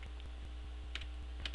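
Soft, quick keystrokes on a computer keyboard, a run of light evenly spaced clicks entering a Linux install command, faint over a steady low electrical hum.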